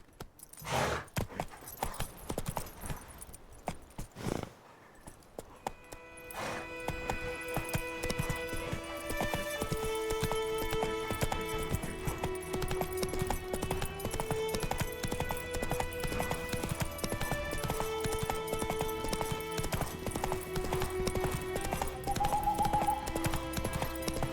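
Horse hooves clip-clop at a gallop in The Witcher 3: Wild Hunt, a steady drumming rhythm that carries on for most of the stretch beneath a layered game music score, with a brief whinny near the start.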